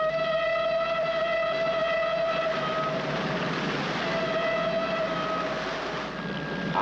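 A moving train in a film rolls on steadily with a continuous droning rumble and sustained whining tones, loud and close, with no speech.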